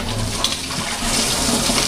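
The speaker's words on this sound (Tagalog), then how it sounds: "Dagdagan po natin ng tubig." Water pours into a pan of cooking mixed vegetable sauce for noodles, making a steady splashing, bubbling rush close by with no talk.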